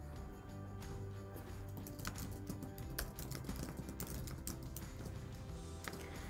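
Rapid typing on a computer keyboard, a long run of fast, light key clicks over a steady background hum, continuous for several seconds.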